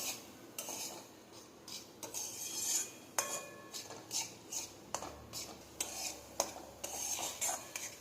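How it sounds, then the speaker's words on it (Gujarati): Gram flour roasting in hot ghee for mohanthal, stirred in a pan: rhythmic metal scrapes and taps of the spoon against the vessel over a faint sizzle, close and fairly quiet, with no talking. "તેને બરાબર મિક્સ કરી આ રીતે આપણે ઘીમાં શેકાવા દઈશું."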